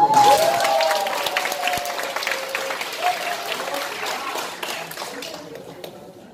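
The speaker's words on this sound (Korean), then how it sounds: "박수 한번 크게 치고" A live audience claps loudly and steadily at a rental product launch event, the dense applause starting strong and tapering off over several seconds, with a voice briefly audible over it.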